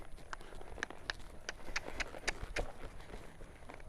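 Hooves of a saddled horse being ridden at a walk, a steady clip-clop of footfalls on firm ground at moderate distance, evenly paced over a faint background hiss.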